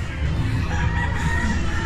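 A rooster crows in a steady, sustained call over a busy backyard at feeding time in the afternoon, with no talking.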